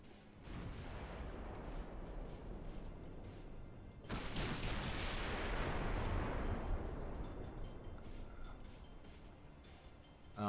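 Naval artillery in Ultimate Admiral Dreadnoughts, a faint distant rumble that swells into a broad, sustained roar of gunfire, quiet overall and without talk.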